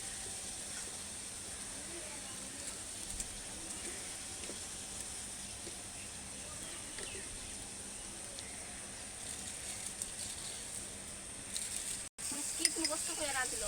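Tilapia fish cooking in oil for a spicy oil curry, a faint continuous sizzle and hiss with occasional clinks of stirring, quiet and close.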